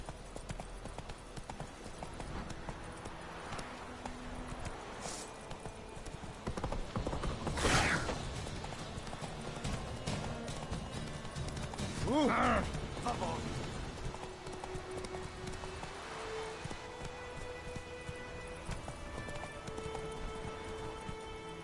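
Roach the horse gallops in The Witcher 3, hooves clip-clopping in a steady driving rhythm throughout, with game music, a brief whinny and a voice over it.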